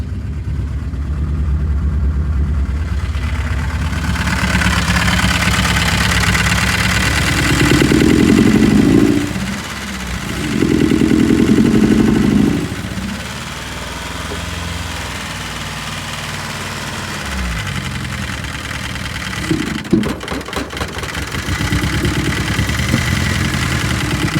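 A 1977 Vauxhall Cavalier Mk1 idles roughly with a persistent misfire, its uneven engine note running steadily throughout, with two louder swells of revving partway through and a sharp knock near the end.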